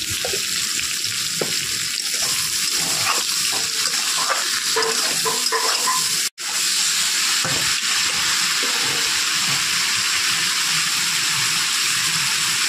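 Ridge gourd and potato pieces sizzle and fry in a pan for a fish curry, a steady dense crackle with occasional stirring scrapes and clinks, close and continuous.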